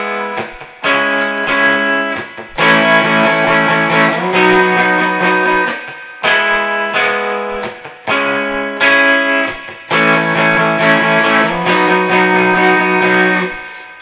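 Distorted electric guitar plays a riff using the open E, loud driven chords repeating in phrases of about two seconds with brief gaps, no voices over it.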